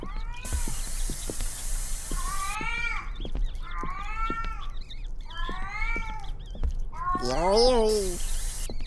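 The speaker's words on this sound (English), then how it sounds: "This sounds like that cat that tries to talk." Repeated cat-like meows in a video game, several drawn-out yowls spaced across the clip with one louder rising cry near the end, over a steady low background.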